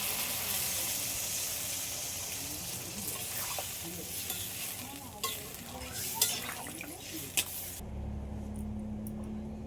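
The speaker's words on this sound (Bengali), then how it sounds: "এবার আমি পরিমাণ মতো জলটা দিয়ে দিচ্ছি" Hilsa and pumpkin in a pan with a loud continuous sizzle and stirring scrapes, a few sharp knocks near the end, then an abrupt cut to a low steady hum.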